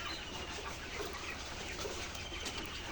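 Flock of 66-day-old pullet layer chickens on a poultry farm, a dense, distant chorus of clucking and bird calls over steady barn noise, fairly faint and without speech.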